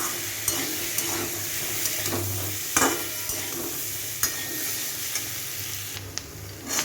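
Potatoes with black pepper powder stirred in a pan, a steady sizzle of frying under repeated scraping strokes of a spoon, close and fairly loud with no voices.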